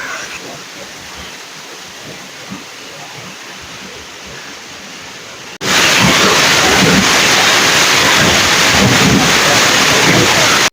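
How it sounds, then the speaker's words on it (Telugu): A waterfall at Lambasingi, water pouring down from above, gives a low, distant rush at first that jumps abruptly to a loud, close, continuous roar about halfway through. "చూడండి వాటర్ ఫాల్స్ అయితే పైనుంచి వాటర్ పడుతుంటే చాలా అంటే చాలా బాగుంది"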